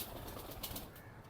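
A Ferozpuri pigeon flaps its wings in a brief, faint burst of soft feathery beats, close by with no voices.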